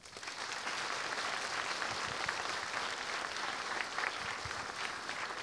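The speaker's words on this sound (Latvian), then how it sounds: "Tā kā veltīsim lielus aplausus visiem tiem," A crowd at the Mis un Misters Balvi 2012 beauty contest in Latvia claps for the participants, giving a steady, dense round of applause that carries on throughout at an even level.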